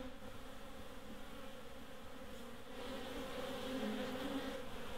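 Bees buzz steadily inside a top bar beehive built from an old fridge, a dense continuous drone that swells slightly louder toward the end, with no voices.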